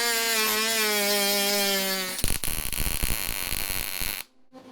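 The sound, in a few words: tack welding metal parts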